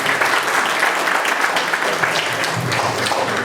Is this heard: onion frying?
no